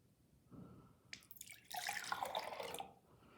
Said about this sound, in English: I'm going to pour it into the big jug